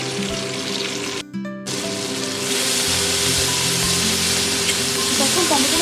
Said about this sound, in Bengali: দিয়ে দেবো একটা টমেটো কুচি।